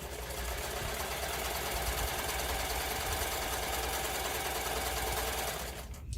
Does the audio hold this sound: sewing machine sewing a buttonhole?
yes